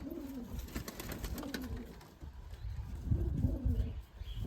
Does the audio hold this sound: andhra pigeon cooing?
yes